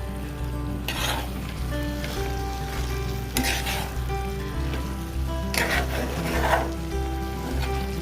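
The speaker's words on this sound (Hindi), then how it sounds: "अब इस सारे चीज़ों को एक साथ फिर से एक बार मिला दूंगी" Okra, onion, tomato and kasuri methi for bhindi do pyaza sizzle in a pan while being stirred, with a steady frying hiss and a few louder scraping sweeps of the spoon over a low hum.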